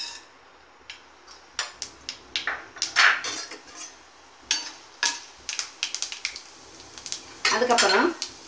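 Mustard seeds and urad dal hit hot oil in a pan for aval upma, giving crackling pops and spattering with a few utensil clinks, close and moderately loud, with the sizzle building near the end.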